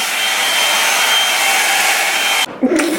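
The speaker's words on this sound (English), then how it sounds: "I have a new hair dryer" A hair dryer blows with a loud, steady roar, then cuts off abruptly near the end, leaving a brief faint sound.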